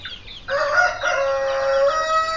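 A caged Goliath chicken crows loudly and close, a drawn-out cry after a few soft clucks, with other caged fowl murmuring in the background.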